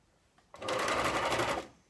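A serger or sewing machine stitches fabric for a snood in one quick, close burst of rapid needle chatter lasting about a second, starting and stopping abruptly.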